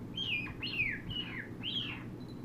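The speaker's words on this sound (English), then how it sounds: "You and Charlie are just adorable little birds" High, thin chirps from a young bird, four clear calls spaced at a loose, uneven rhythm, close and fairly quiet over a soft low background hum.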